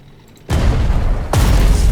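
A tank attacks enemy artillery in the strategy game Strategic Mind: Spirit of Liberty, giving a loud, sudden boom after a quiet moment and then a second heavy blast rolling on right after it.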